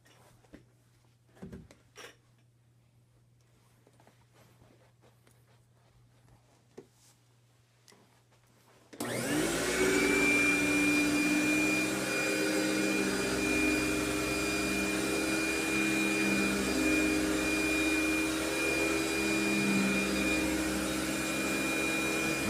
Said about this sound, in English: let's do a little vacuuming